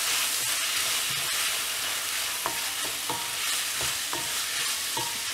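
Ginger garlic paste sautéing with tomatoes in a pan for a quail egg prawn curry, a constant loud sizzle broken by scraping stirs of a spoon against the pan, no voices.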